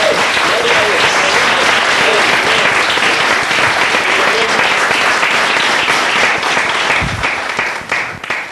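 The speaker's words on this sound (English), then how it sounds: "you may clap the Lord because I think he's the greatest God" A church congregation applauds during a live televised baptism-of-fire service in Mexico, a dense, loud, sustained wash of clapping that fills the whole stretch and thins slightly near the end.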